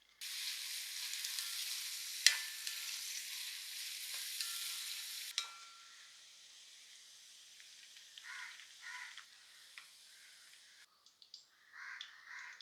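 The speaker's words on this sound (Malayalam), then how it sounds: "അച്ചാറിന് പാകത്തിന് നല്ലെണ്ണ ഒഴിച്ചു ഇനി ഈ ക്യാരറ്റ് നമുക്ക് ഒന്ന് വറുത്ത് കോരിയെടുക്കണം" Carrots sautéing in sesame oil in a pan for a special Kerala-style mango pickle, giving a steady close sizzle with a few stirring scrapes, the frying fading and growing quieter partway through, with crows cawing faintly outside.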